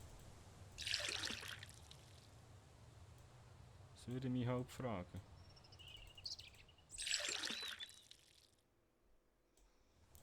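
Water pours into a container in the video game Mist Survival, heard as two short splashing gushes about six seconds apart, with someone speaking German briefly between them.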